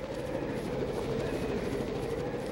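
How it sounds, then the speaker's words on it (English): A helicopter in the video game Raw Danger gives off a steady, fairly quiet rotor drone that holds unchanged throughout with no voices over it. "We made it to the chopper."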